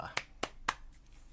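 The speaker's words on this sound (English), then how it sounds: "we're clapping out here" Three sharp, quiet hand claps ring out in an even rhythm, close by and with a short gap between each.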